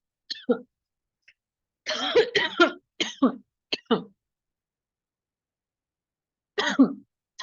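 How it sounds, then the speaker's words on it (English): Several harsh coughs and throat clearings come in a few bursts separated by silence, close and fairly loud. "because I'm coughing a lot, let's just take a 5-minute break here"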